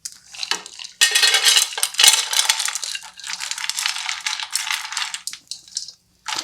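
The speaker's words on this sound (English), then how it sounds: "I'm going to add my nuts" Nuts tumbling into a pan warming over low heat for granola, a burst of rattling, clinking pieces hitting metal followed by several seconds of scattered sizzling clatter as they settle and are stirred, close and fairly loud with no talking.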